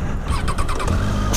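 A Triumph Tiger 800 or 1200 adventure motorcycle restarting after a stall on a steep offroad descent: the starter cranks briefly and the engine catches with a short rising rev, close and fairly loud.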